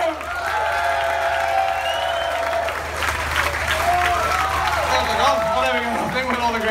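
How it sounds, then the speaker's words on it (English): A festival crowd applauds magicians on stage in a loud, sustained wash of clapping, with a voice speaking over it and some whistles or cheers rising near the end. "One more massive round of applause."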